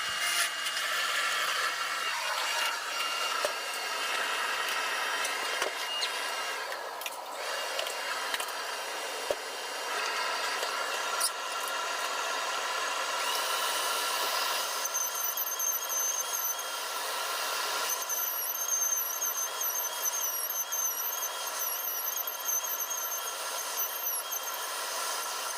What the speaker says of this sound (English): So this is finishing up the router, at least the first level of it.